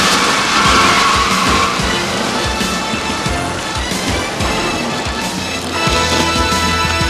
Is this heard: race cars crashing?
yes